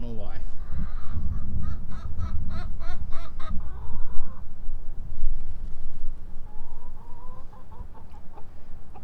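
Chickens and a rooster cluck and call in a chicken coop, with a burst of rapid clucking early on and softer calls later, mixed with a person talking and steady outdoor rumble.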